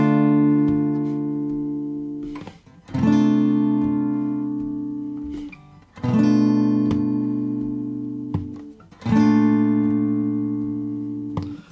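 An acoustic guitar strums chords for the verse of a song, with four ringing strums spaced about three seconds apart, each one decaying before the next, and no voices.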